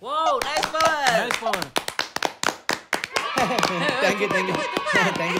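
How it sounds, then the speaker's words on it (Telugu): Hands clap in a quick burst of sharp, close claps within a playful classroom comedy skit, mixed with talking voices and light laughter before and after. "okay claps"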